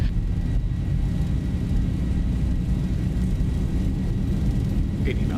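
A Zibo Boeing 737-800 rolls down the runway for takeoff in X-Plane 12, giving a steady, loud low-frequency engine roar and rumble with no break.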